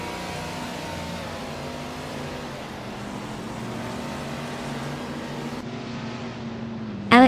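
Vintage 1966 McLaren Elva Oldsmobile race car in a racing video game, a steady droning engine note held at speed with no talk, ending in a brief loud burst.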